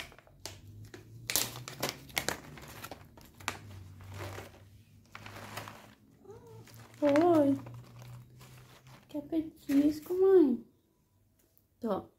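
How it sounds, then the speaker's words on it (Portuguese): A pet cat meows repeatedly for a treat, several short rising cries near the end, mixed with the crinkle of a snack bag and a person talking over a low background hum. "A Meg, que já quer o que, gente? O petisco dela. Ô, oh, gata petisqueira"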